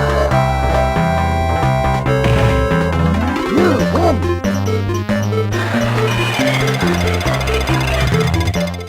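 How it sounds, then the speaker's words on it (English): Off-key Super Street Fighter music from a Gopher portable Sega Genesis clone, harsh distorted chiptune melody with buzzy bass and screechy effects, loud and continuous. "the music emulation is so bad, the sounds are actually off-key, and due to the horrific sound quality, it makes the game unplayable"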